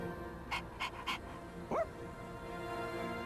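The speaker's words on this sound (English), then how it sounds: "That's a nice puppy." A dog in the Persona 3 Reload video game gives three short yips followed by a rising whimper, close and clear over a quiet, steady background.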